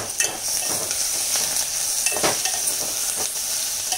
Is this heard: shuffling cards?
no